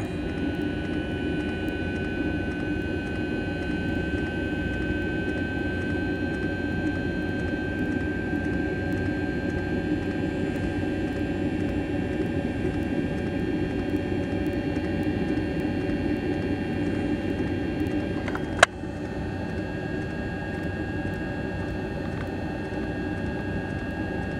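A Planar 44D-12 diesel air heater set on high runs inside a bus, giving a steady whooshing fan hum with a faint whine throughout, broken only by one brief click near the end.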